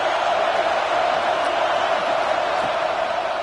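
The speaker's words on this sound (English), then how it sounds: "this crowd is fired up. Listen to this noise here." A football stadium crowd roars in a steady, dense wash of noise that stays level throughout, with no single voice standing out.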